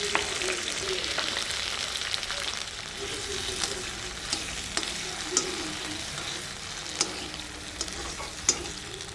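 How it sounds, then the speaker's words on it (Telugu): Tomato pieces fry in a tablespoon of oil in a kadai while making a village-style Andhra tomato green chilli chutney, giving a steady sizzle broken by a few sharp clicks of stirring. "మళ్ళీ అదే కడాయిలో 1 టేబుల్ స్పూన్ నూనె తీసుకొని ఇప్పుడు టమాటా ముక్కలు వేసుకోవాలి"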